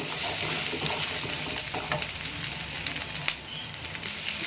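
Mutton offal gravy (kudal gravy) cooks in a pan over a low flame while being stirred, giving a steady, close, soft sizzle with occasional light scraping clicks.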